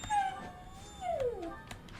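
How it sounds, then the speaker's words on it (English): A dog whines to go outside, giving two faint, high, drawn-out whimpers that slide downward in pitch. The cries sound slightly distant in a quiet indoor background. "Also, my dog, if you can hear him in the background,"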